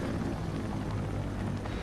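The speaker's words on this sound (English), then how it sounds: "I see that helicopter." Steady, loud rotor and engine roar of a helicopter in Batman Arkham Knight, a continuous dense rumble with no other sound.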